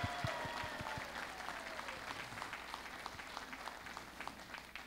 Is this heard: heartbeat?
no